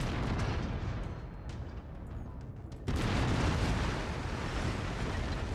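Autocannon on a mech in MechWarrior 5 booming in heavy rolling blasts, dense and loud, with a fresh surge of firing partway through.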